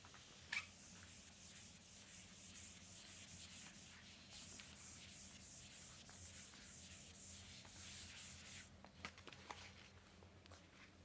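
Chalk or marker scratching out an expression on a board, with rapid rubbing strokes in bursts and short pauses, faint and close, with no talking over it.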